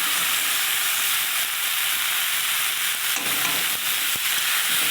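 Yukti flowers dropped into hot oil that has already fried something reddish-brown, giving a loud, steady crackling sizzle with a constant hiss throughout and no talk.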